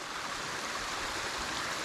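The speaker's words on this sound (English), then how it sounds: "Oh, look at the rain picking up." Steady rain falls outdoors near a beaver dam, a dense even hiss of broadband noise with no breaks, moderately quiet and close.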